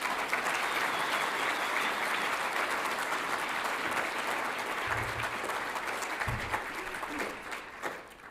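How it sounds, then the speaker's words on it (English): Sustained, steady applause from an audience at a Jesuit Social Services general meeting, many hands clapping for a speaker, dense and even for about seven seconds before tapering off at the end. "I want us to give her a very big hand of applause"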